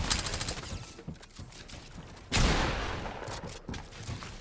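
Gunfire in the video game Fortnite during a sniper headshot, with scattered shots and clicks followed by one loud, sharp blast and further rapid shots.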